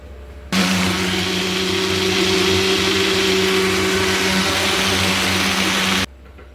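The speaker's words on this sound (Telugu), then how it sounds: "మిక్సీ పెట్టుకుందాం" A mixer grinder blending muskmelon juice with milk and sugar whirs loudly and steadily for several seconds, then cuts off abruptly, with no talking over it.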